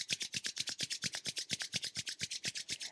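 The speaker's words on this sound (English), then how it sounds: "we create heat in between the palms by rubbing the hands together." Palms rub briskly together in a quiet meditation space, making a steady close, dry swishing rhythm of about eight strokes per second that continues throughout without pause.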